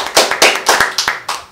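A few hands clapping in a quick, uneven rhythm of about eight sharp claps, close and dry, with no voices over them.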